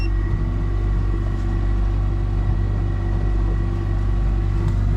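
Yamaha T9.9 outboard on a Thunderjet boat running steadily with a constant droning hum and low rumble, close and unbroken throughout, with no clear rise in pitch.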